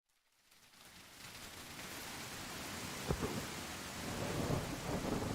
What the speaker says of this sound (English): We can even change this sunny day into a thunderstorm.